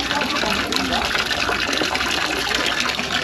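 Water runs steadily from a tap in a restaurant setting, a continuous broadband hiss and splash that stays even throughout, fairly close and unbroken.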